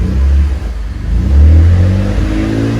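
A BMW M3 S55 engine holds a raised idle near 2,000 RPM, a loud close steady drone that dips briefly and then swells back up.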